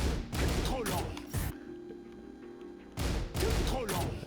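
Victor fires gunshot attacks in the fighting game Tekken 8, loud bursts of sharp cracking shots in two clusters separated by a quieter stretch of game sound, close and punchy.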